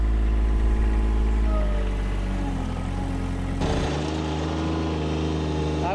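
A Bobcat MT120 mini track loader drives across a rough field, its engine holding a steady, close drone that shifts pitch partway through as the machine keeps moving.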